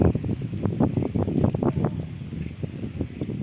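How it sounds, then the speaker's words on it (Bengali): Wind gusting through a home garden of rose apple, banana and papaya trees, heard as a steady, loud rumbling buffet that swells and dips across the moment with no other sounds standing out. "এখানে হাওয়া তো।"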